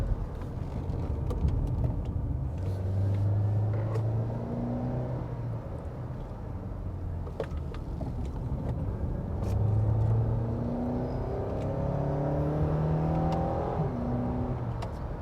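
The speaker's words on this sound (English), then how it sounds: "Look at the way this car handles that turn" An Acura TSX drives and accelerates on a winding road, its engine a steady rumble that rises and falls with revving through the turns. No talking.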